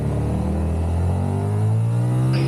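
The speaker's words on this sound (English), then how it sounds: "It really screams at higher revs." Triumph Tiger 1200 Rally Pro, a 1200cc adventure motorcycle, revs hard while riding, its engine note climbing steadily in pitch into a loud, continuous scream with no talk over it.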